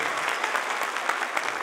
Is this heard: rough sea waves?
no